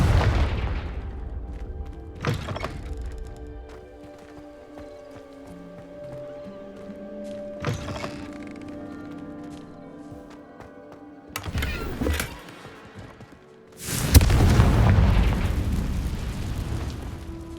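A Confringo fire explosion spell in the video game Hogwarts Legacy erupts in a loud, sustained booming blast near the end, after a few sharper thuds and quieter game ambience.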